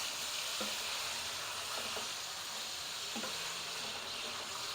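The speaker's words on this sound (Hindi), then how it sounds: "अब लौकी डाल के इसकी बुनाई करेंगे थोड़ी सी" Chopped bottle gourd fries with spiced beef in a pan for lauki gosht, making a loud, continuous sizzling hiss throughout with a few faint stirring clinks and no voices.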